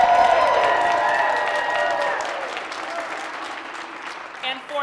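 A crowd at the All-America City 2025 presentations claps and cheers, loud at first and slowly thinning out, with a voice speaking over the applause.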